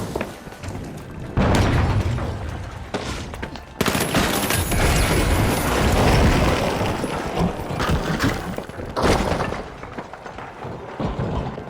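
A frag grenade blast in the shooter game The Finals, rendered as loud booming bursts with rolling crackle and gunfire-like rattles over about twelve seconds, several heavy surges following one another up close.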